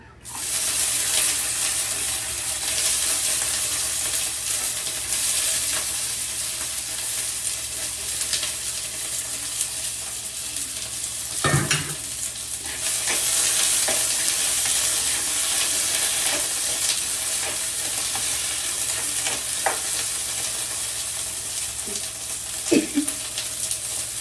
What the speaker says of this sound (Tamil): இதையும் போட்டு வெங்காயத்தையும் சேர்த்து போட போகிறேன் ரெண்டுமே சேர்ந்து தாளிக்கிற மாதிரி